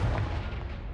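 Confringo blasting spell exploding in Hogwarts Legacy, a single heavy, deep boom that rumbles and slowly fades, loud at the start with no talking over it.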